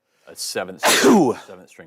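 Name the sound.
sneeze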